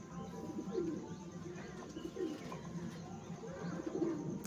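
Madras pigeons cooing softly and repeatedly at close range, low throaty calls over a faint background hum.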